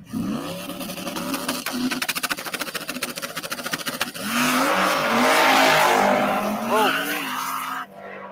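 A car doing a long burnout on a street, engine revving hard with rapid rhythmic pulsing, then a sustained loud tire squeal and skid, rising and wavering before cutting off near the end. A voice talks briefly over it.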